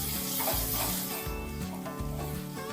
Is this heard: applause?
no